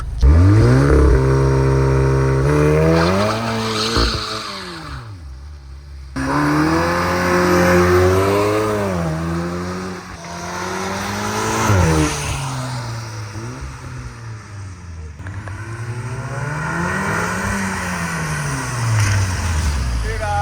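A car with a Milltek non-resonated exhaust revs repeatedly, the engine note sweeping up and down in loud, close pulls with brief pauses between them, while people talk intermittently nearby.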